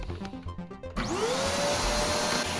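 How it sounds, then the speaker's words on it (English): A vacuum cleaner powered from a portable power station switches on about a second in, its motor whine rising in pitch and settling into a loud, steady roar that continues to the end. "I'm now gonna turn the vacuum cleaner on"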